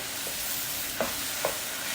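Tempering oil sizzles in a steady hiss for moong dal, with a couple of faint scraping taps from a spoon stirring the pan.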